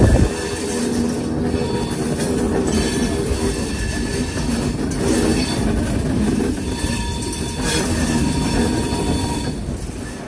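Inside a moving Tinsukia–Bengaluru Express passenger train, the carriage rumbles and rattles constantly with steady wheel noise and faint squealing, a loud continuous rolling din with no clear voices.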